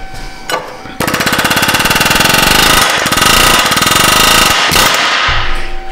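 Air impact wrench rattling hard on a rusted exhaust flange bolt of a Dodge Caravan, a loud, continuous rapid hammering burst lasting several seconds after a brief start, close to the microphone.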